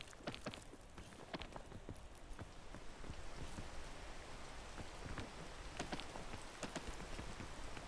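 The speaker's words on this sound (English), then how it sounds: "It's raining, so I can kind of see my environment." Steady video game rainfall patters down with scattered sharper droplet hits, a soft continuous hiss with no voices.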